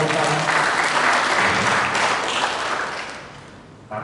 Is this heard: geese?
no